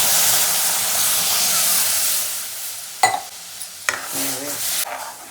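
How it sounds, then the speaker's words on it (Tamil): Milk poured into a pan of besan roasted in ghee for besan kheer, giving a steady broad sizzling hiss throughout with a couple of short clattering knocks of the pan near the end. "இப்போ இந்த பாலை ஊற்றிக்கலாம்."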